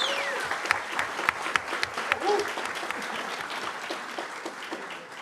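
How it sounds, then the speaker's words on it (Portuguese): Applause rises in the São Paulo legislative assembly as a crowd claps steadily, sharp individual claps popping above a softer wash, gradually thinning out toward the end, with no one speaking. "eu queria uma salva de palmas para essa equipe jurídica que fez um projeto maravilhoso"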